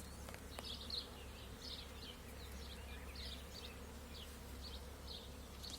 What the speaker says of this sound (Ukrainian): Послухайте, як працюють бджоли.